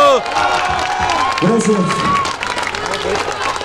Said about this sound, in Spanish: Un aplauso a la leyenda. ¡Bravo!